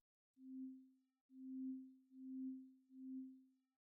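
Synthesizer tones patched in VCV Rack with a very long envelope attack: four quiet, steady low notes in a row, each swelling gently and fading out, sounding alone with near silence between them.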